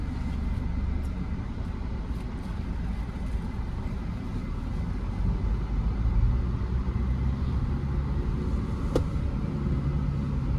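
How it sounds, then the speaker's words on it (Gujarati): A continuous low, rumbling engine drone runs steadily throughout, close and even, with a brief sharp click near the end. "જો ખાલી કેટલું મસ્ત અવાજ કરે ડીઝલ એન્જિન"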